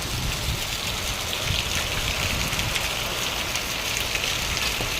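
Heavy rain pours down in a dense, continuous hiss in Lakhanka, with rushing, gushing water and gusty wind underneath, steady and close with no voices.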